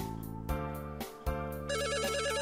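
A telephone ringing in a visual novel game: a loud, steady electronic ring with a few short breaks, over a constant musical background and no speech.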